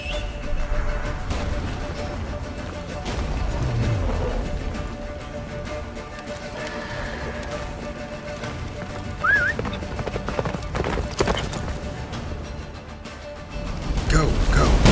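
Horse galloping in the video game Witcher 3, a steady clip-clop of hooves with an occasional whinny, mixed with game music and effects while voices talk over it throughout.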